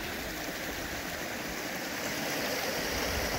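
Eightmile Creek flowing through a canyon, a steady close rush and babble of water that swells slightly toward the end, with no talking.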